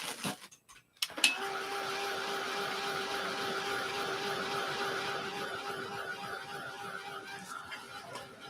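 A hair dryer blows steadily across a mixed-media art journal page, switching on after a brief pause and holding a constant close whooshing hum with a faint tonal whine for several seconds.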